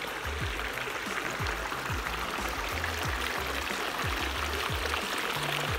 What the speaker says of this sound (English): That's this water feature here.